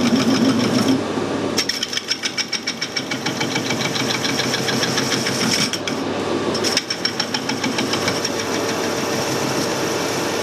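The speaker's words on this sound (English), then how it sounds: "The machining not so bad now, we've got through the hard skin." Machining a plasma-cut steel sprocket on a lathe or mill, the cutter grinding through hardened burnt edges: a steady close mechanical whine with a dense rapid chattering texture and a couple of brief pauses, no talk.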